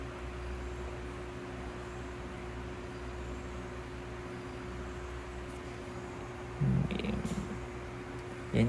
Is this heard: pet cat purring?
yes